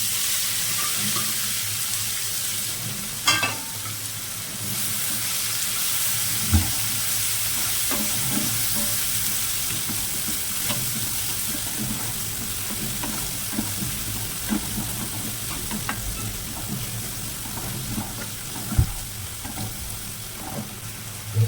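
Chopped garlic fries in hot oil in a pan for a Gujarati green pigeon pea thotha curry, a steady close sizzle broken by scraping stirs and the odd clink of a spoon, with no talk.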